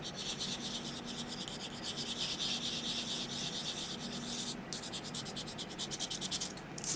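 A file rasps steadily across a paper swatch to wear away printed letters, a continuous close scratching that runs unbroken through the whole clip, faster and choppier strokes toward the end.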